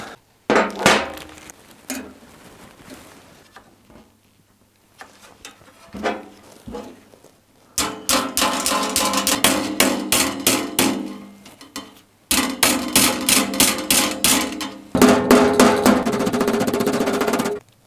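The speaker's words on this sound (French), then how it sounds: "je vais utiliser, encore un coffret, des outils de carrossier avec des marteaux spéciaux" Bursts of rapid metallic tapping, a body hammer striking a Peugeot 205 metal bumper in quick repeated strokes, with brief pauses between runs, close and fairly loud.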